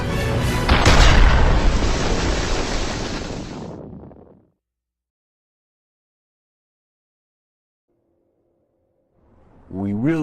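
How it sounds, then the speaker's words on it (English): MAC cannon rounds fire in the Halo Reach video game, a single massive booming blast that rolls out and fades over several seconds into silence, followed later by a faint rising electronic tone. "The vessel's captain is ready to fire Mac rounds."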